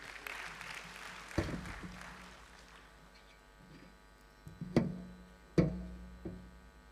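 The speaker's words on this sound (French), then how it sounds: "Ce sera sous vos applaudissements" Audience applause at a formal departmental council address in Kaolack, Senegal: scattered clapping builds and fades, with a few louder bursts and a steady electrical buzz underneath, no speech over it.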